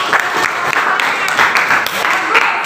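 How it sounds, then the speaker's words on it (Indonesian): Classroom applause for a student group during an Indonesian language lesson, dense clapping filling the whole moment with light voices mixed in. "beri tepuk tangan untuk kelompok 3"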